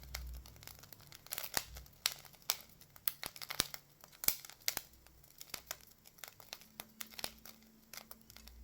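Rice grains dry roasting in a pan crackle and pop in a stream of sharp, irregular snaps, faint and close, with no voices.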